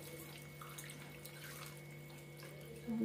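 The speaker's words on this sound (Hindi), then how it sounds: "गोटे ग्लास पानी दे दूची," A glass of water is poured into a pressure cooker while cooking jackfruit curry, a quiet, steady trickle beneath a constant electrical hum, with no speech.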